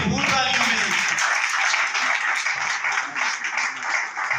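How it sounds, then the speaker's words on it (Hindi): An audience at a Christmas program in Faisalabad applauds to welcome a guest, clapping rising over the end of a voice and then continuing as a steady, busy patter. "आपकी भरपूर तालियों में"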